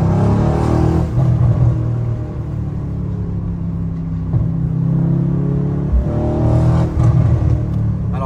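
A 606-horsepower Mercedes C63 accelerates with a loud, steady engine roar and deep rumble, surging near and continuous across the whole stretch, with slight dips where gears seem to change.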